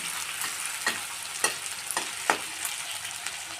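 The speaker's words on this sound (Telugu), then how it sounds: "కరివేపాకు, ఉల్లిగడ్డ, మీడియం ఫ్లేమ్లో పెట్టి ఇలా కాల్చుకోవాలండి" Onions, chana dal and curry leaves fry in oil on a medium flame, hissing and sizzling steadily with a few crackling pops and the scrape of stirring, close and clear.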